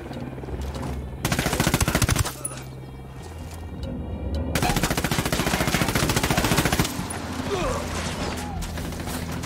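Bursts of automatic and rifle gunfire from a squad opening fire in the tactical shooter Ghost Recon Wildlands, loud and close, coming in heavy sustained volleys with short pauses between them.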